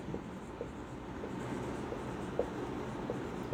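Pen scratching across paper while working through a maths exercise on sets and relations, continuous soft strokes with small taps, close and quiet, with no voices.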